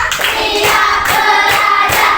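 A group claps hands together in a steady, dense patter of overlapping claps, keeping time through a counted clapping routine during a school teaching session, with no talking over it.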